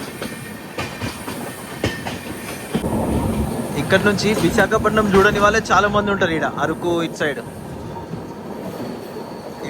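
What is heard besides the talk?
Kirandul passenger train heading onto a bridge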